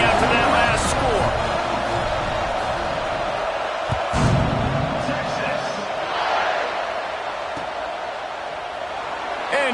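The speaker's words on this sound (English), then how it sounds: "this crowd is buzzing after that last score" Stadium crowd at an American football game buzzing after a touchdown and extra point, a steady loud roar of many voices filling the clip with brief surges, while an announcer talks over it.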